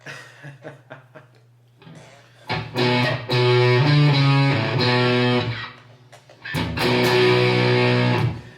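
Thick fuzz-distorted electric guitar through a fuzz preset on a Fender Mustang GTX100 amp plays a riff with sustained chords, loud and saturated, after a quieter muted intro.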